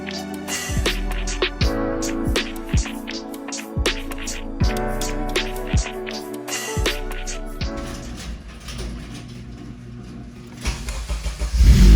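A Honda Civic Si's K20Z3 engine cranks and fires, then revs repeatedly in sharp bursts, loud and close, before settling into a rough idle.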